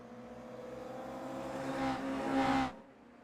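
Toyota GR86 race cars with 2.4-litre naturally aspirated boxer four-cylinder engines in a sim racing game give a steady engine drone that swells twice and then cuts off abruptly.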